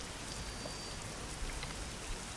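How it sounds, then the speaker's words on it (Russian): Steady rain falls in Euro Truck Simulator 2, a soft, even hiss of drops on the truck with no talk, constant and fairly quiet throughout. "Опять дождик."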